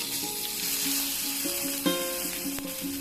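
Steady crackling sizzle of hot tempering hitting fenugreek-leaf and tomato chutney, with a sharp pop near the middle and faint tonal background sounds throughout.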